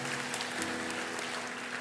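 Worshippers at an Indonesian church sermon give a brief, continuous burst of clapping, a steady wash of hands with a low musical hum running underneath.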